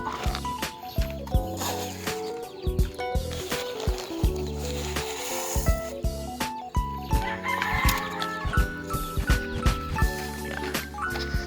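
Hens cluck and call close by in short repeated bursts in a chicken coop, with scattered clatter and rustling around them; no talking.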